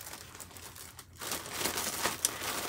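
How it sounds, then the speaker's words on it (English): A plastic bag crinkles and rustles as a secondhand item is packed into it for shipping, close by, starting quietly then growing into busy, irregular crackling with a sharp crinkle near the end. "And I put it in a plastic bag first."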